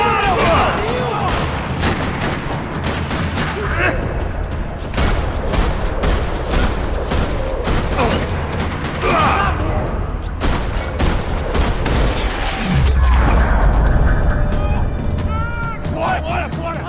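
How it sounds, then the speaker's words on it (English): Rapid gunfire rattles through a parking lot, bursts of sharp cracks and heavy booms repeating densely over the whole stretch, loud and close, with a deeper blast near the end. "Another parking lot rattling with gunfire"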